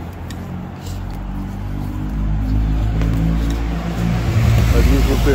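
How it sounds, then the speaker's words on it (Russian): A car drives along a street in Monaco, its engine a steady low rumble that swells and revs harder toward the end, with people talking over it. "Машину здесь гоняют"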